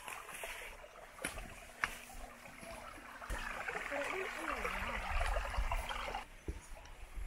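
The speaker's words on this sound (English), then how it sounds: "And the trickling water has nice background ambiance." A shallow mountain forest stream with small footbridges trickles and gurgles steadily in the background, close and fairly soft, with faint voices and a few knocks over the water.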